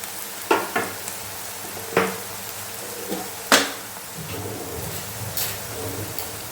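Spices sizzling in hot oil in a pan, with a steady frying hiss punctuated by several sharp crackles and pops spaced a second or so apart.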